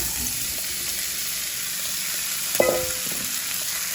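Cubed potatoes with a little oil and Lipton onion soup mix fry in a pan, giving a steady, moderate sizzle throughout, broken once midway by a brief clink and stirring scrape.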